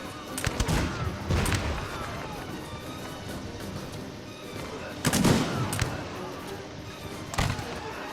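Musket volleys from King's Musketeers in the strategy game Cossacks 3, several sharp cracks at irregular intervals over steady battle noise while someone talks throughout.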